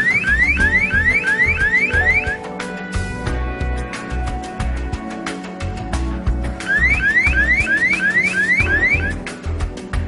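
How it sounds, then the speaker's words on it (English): A loud car-style security alarm at a photovoltaic solar plant cycles through rapid rising whoops and steady tones, repeating continuously for the whole stretch with no voices. "A light will start to flash and an acoustic alarm will go off as well."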